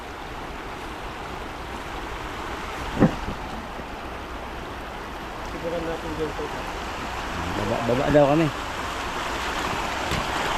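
Steady rushing water from a fast-flowing, flooded river after heavy rain runs throughout, with people talking briefly over the constant roar at night.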